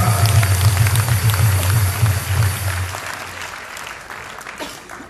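Audience applause at a Korean Christian political rally in a convention hall as the leader of the Christian Liberty Party is welcomed, a dense steady clapping that tapers off after a few seconds with a low hum underneath.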